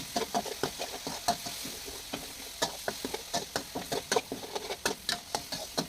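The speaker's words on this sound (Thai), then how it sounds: "ผัดให้เข้ากันผัดให้แห้ง" Thai roasted chili paste with tamarind water being stir-fried in a pan, a steady run of scraping stirs against a soft sizzle, close and fairly loud with no voices.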